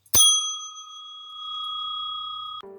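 A single bicycle bell rings sharply to signal a sprout launch, its bright tone ringing steadily for over two seconds before cutting off into a lower clang.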